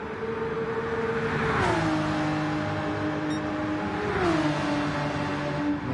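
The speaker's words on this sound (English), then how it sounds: "Oh, it is the Purple Poison Porsche." Porsche race car engine at the 24 Hours of Spa GT race, a sustained loud whining drone that drops in pitch twice as the car shifts gears, steady and close with no talk.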